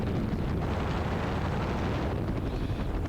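An ELA 07 gyrocopter's engine runs on the runway, a loud, unbroken roar heavily buffeted by wind across the microphone.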